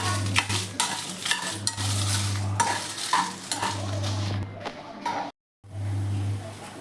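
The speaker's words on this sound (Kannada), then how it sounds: "ಬಿಳಿ ಎಳ್ಳು ಒಂದೆರಡು ಸ್ಪೂನಷ್ಟು ಮೆಣಸಿನ್ಕಾಯಿ ಮತ್ತು ಗುಂಟೂರು ಮೆಣಸಿನ್ಕಾಯಿ ಖಾರಕ್ಕೆ ತೊಗೊಂಡಿದ್ದೀನಿ ಇದಿಷ್ಟು ಫ್ರೈ ಮಾಡ್ಕೋತೀನಿ ಎಣ್ಣೆಯಲ್ಲಿ" White sesame seeds and Guntur dried chillies frying in oil in a home kitchen pan, giving a steady close sizzle with scraping stirs and a low hum running under it, broken by one brief silence near the end.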